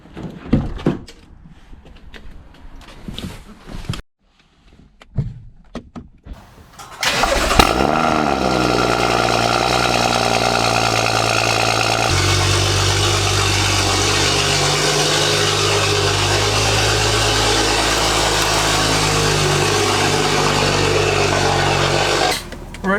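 A BMW car in a garage, some handling clatter and a door, then the engine cranks and fires up into a loud steady idle with rumbling exhaust burble, shifting tone partway through as it pulls out, heard close with no talking.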